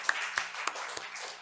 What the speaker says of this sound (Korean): 우리 박수로 함께 했으면 좋겠습니다.